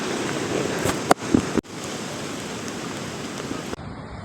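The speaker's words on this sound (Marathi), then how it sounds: "भयंकर वार सुटले आता आणि सगळं पाणी इकडे येते रिवास वॉटरफॉलचं" Strong gusts drive water spray back up from the reverse waterfall at Sandhan Valley near Bhandardara, a steady loud rushing wash of wind and spray with a couple of sharp buffeting thumps, ending abruptly.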